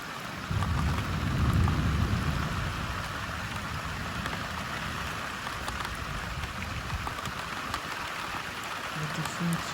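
Heavy thunderstorm rain in Amboise, a dense steady downpour with a deep rumble of thunder swelling early on, continuous and enveloping, with no voices.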